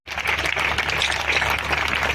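A crowd applauding at a Vijayadashami gathering in Delhi, dense continuous clapping that starts abruptly and holds steady and loud, with no voices over it.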